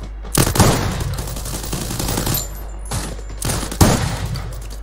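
Gunfire in the mobile shooter Free Fire played on a PC emulator: several loud, close bursts of rapid shots that stand alone over a steady low hum.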